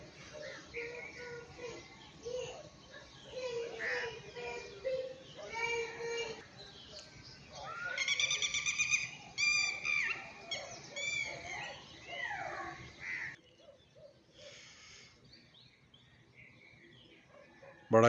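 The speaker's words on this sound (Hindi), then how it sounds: "परिंदों की आवाज़ें।" Birds chirping on a village morning, a mix of tweets and trilling calls near and far, with a busy burst in the middle and faint background noise.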